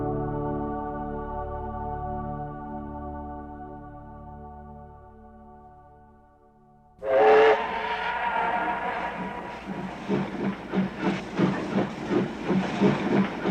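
A steam train whistle holds a long, steady, fading tone for about seven seconds. A sharp hiss of steam then bursts out, followed by the engine's rhythmic chuffing, which grows steadily louder as the train gets moving.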